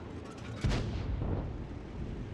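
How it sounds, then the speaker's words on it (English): A single heavy artillery shot in the video game World of Tanks, a loud close boom that rolls into a rumbling decay and fades over the next couple of seconds. "of course the English artillery fire a little bit higher"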